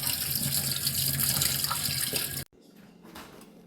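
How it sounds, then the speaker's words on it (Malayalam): Running tap water splashes steadily as food is rinsed under it to remove stains, loud and continuous before cutting off abruptly, leaving faint trickles and drips. "ഇപ്പോൾ നല്ല പോലെ കഴുകി ഇതിത്തെ കറൊക്കെ കളഞ്ഞിട്ടുണ്ട്."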